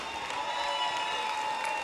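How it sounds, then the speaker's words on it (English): Steady audience applause at a stage event, a continuous wash of clapping from a crowd at moderate level, with no clear voices. "a big round of applause for the lady"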